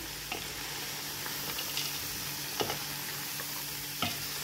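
Ingredients stirred and sautéed together in a pan for a Greek green bean dish: a low, steady sizzle with occasional soft scrapes and taps of the utensil.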